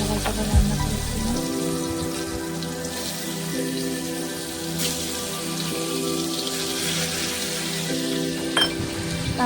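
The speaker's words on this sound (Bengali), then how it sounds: "আর অন্যদিকে পটলের পটলগুলো ভেজে নিচ্ছি" Pointed gourd (potol) pieces fry in oil in a pan, giving a steady, close crackling sizzle with scattered pops that continues without pause throughout.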